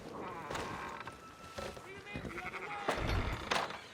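Sheep bleating in the game Red Dead Redemption 2, several short bleats spaced irregularly over wind and ambient noise, with a voice talking alongside.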